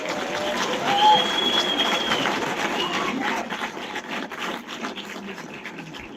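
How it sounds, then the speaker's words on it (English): Audience applause after a book's author is welcomed at a university book-of-the-month event, a dense, steady wash of clapping that fades slightly toward the end, with a faint whistle and a voice near the start. "we need another big round of applause"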